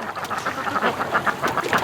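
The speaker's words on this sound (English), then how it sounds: "But like these ducks just came up, but they're not panicking." Ducks quack on a lake, a steady cluster of overlapping nasal quacks close by, repeating in quick irregular bursts with no talking.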